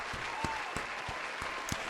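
Steady applause from a crowd, fairly faint and continuous, with a few sharper individual claps standing out.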